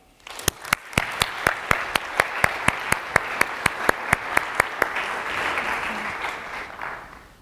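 An audience breaks into applause to welcome Dawn White at an entrepreneurship talk. A steady wash of clapping is cut by loud, evenly spaced claps close by, then tapers off at the end.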